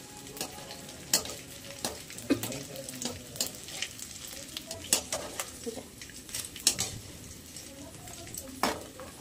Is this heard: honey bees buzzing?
no